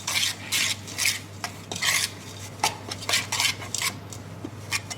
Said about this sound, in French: Donc là, on mélange.